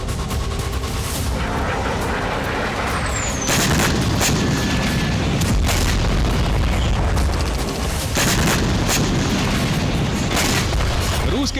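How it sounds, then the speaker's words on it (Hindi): Explosions from Russian Shahed kamikaze drone attacks in Ukraine, a dense run of heavy booms and blasts with crackling gunfire-like bursts, loud and continuous, overlaid with a faint whining tone. "रूस के इन आत्मघाती ड्रोन से कई धमाके हुए"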